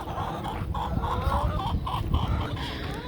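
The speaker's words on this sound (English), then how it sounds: "The birds are following." Farmyard chickens cluck repeatedly and closely as they follow someone across their yard on a hot day, a busy overlapping run of short clucks over low background noise.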